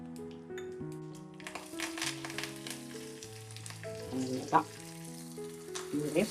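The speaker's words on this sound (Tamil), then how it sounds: "கடுகு, உளுத்தம்பருப்பு, சீரகம் கூட்டுக்கு தாளிச்சுக்கலாம்." Mustard seeds, urad dal and cumin crackle and sizzle in hot oil, faint spattering pops under steady background music.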